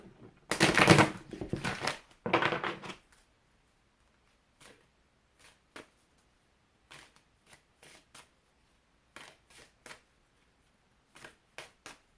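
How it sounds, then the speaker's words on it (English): A deck of cards is shuffled in two quick riffling bursts, followed by quieter scattered taps and flicks of cards being handled. "This one has to have a good shuffle."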